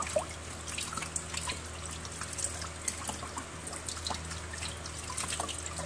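Water from a tap runs into a sink during hand rinsing in a medical hand-washing routine, making a soft, continuous trickle with small drips and splashes, fairly faint and without voices.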